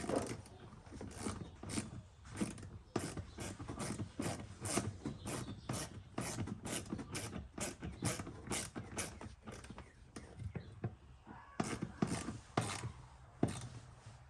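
Ratcheting and rubbing clicks come up close while a module is bolted into a BMW F10 M5 under repair, with a quick regular series of sharp tool strokes and scrapes going throughout, fairly quiet.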